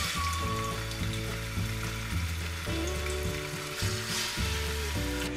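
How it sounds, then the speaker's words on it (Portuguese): Beef searing in hot oil in a pan while making a vegetable and meat soup, with a steady, loud sizzle and frying crackle throughout, accompanied by sustained musical tones and no talking. "Eu vou colocar a carne e vou dar uma selada, vou deixar ela dar uma fritada dos dois ladinhos"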